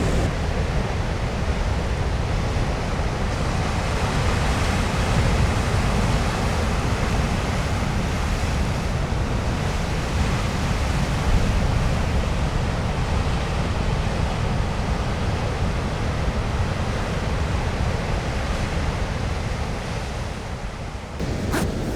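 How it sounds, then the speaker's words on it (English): Ocean waves roll in against the rocky Donegal coast in Ireland, a loud, continuous wash of surf and spray that holds steady throughout, with some wind noise and no voices. "get some drama in the waves as they roll in"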